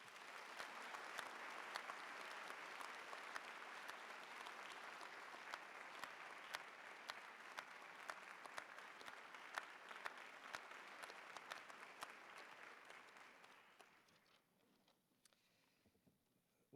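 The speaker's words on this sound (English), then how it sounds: "let's have a round of applause once more" Sustained audience clapping at the UC Berkeley Physics commencement ceremony, even and dense for about fourteen seconds before tapering off into a few scattered claps and quiet room tone.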